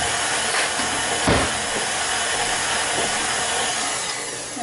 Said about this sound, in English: Now I have to stir in the pumpkin.